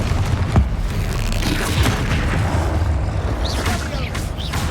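Repeated Confringo fire-blast spells in the Hogwarts Legacy video game, giving a loud, dense run of booming explosive impacts with a sharp burst near the start and rolling rumble throughout.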